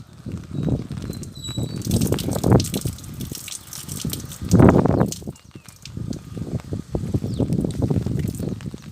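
Excess rainwater is tipped out of a potted plant on a terrace garden, coming in uneven splashing gushes and drips that swell and fade over several seconds, close by and fairly quiet.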